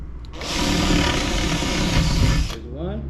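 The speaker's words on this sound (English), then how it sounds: "I'm going to drill my two corners." A power drill bores a hole into a wooden corner in a garage, one steady loud whirring burst of about two seconds that then winds down.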